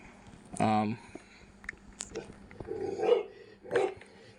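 A dog barks a few times in the background, short muffled yaps and bursts spaced irregularly, fairly faint and mixed with someone talking close to the microphone.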